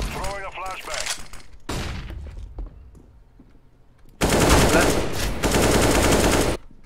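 Rapid AK rifle bursts in CS:GO rattle out in several loud volleys, the longest near the end, with voices talking between the bursts.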